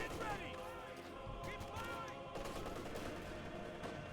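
Machine gun fire from a World War II real-time strategy battle in Company of Heroes 2, rapid bursts crackling through dense in-game explosions and effects, with a commentator talking over it throughout.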